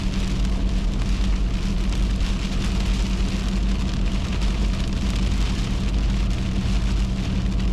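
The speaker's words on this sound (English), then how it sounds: "It's raining really good now." Steady, heavy rain pours down, a dense continuous hiss and patter with a low rumble beneath, and no voices.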